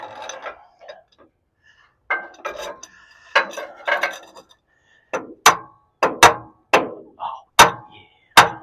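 Metal blows from a half-inch breaker bar used as a hammer: scraping and clinking at first, then a run of sharp, loud, evenly spaced strikes close by, with no talking.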